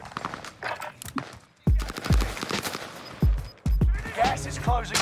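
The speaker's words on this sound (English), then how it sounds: "are you shooting at AI right now?" Gunfire in Call of Duty Warzone, with several sharp, loud shots in irregular bursts, close and punchy, mixed with rapid clicks and game noise.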